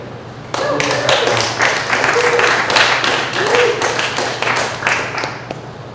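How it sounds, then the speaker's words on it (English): A crowd at a climate activism talk claps for several seconds, a busy patter of hands with a few whoops and voices rising through it before it thins out. "give yourselves a round of applause for being here"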